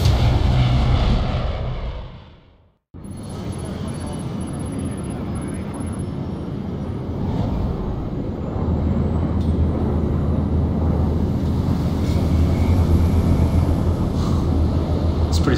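Steady low engine drone inside an airplane cabin in the video game Splinter Cell Blacklist, a continuous rumble that briefly drops out near the start, then holds at an even, moderately loud level.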